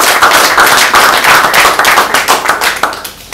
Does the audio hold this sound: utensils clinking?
no